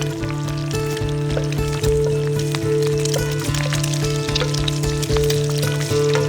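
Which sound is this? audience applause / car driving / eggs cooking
eggs cooking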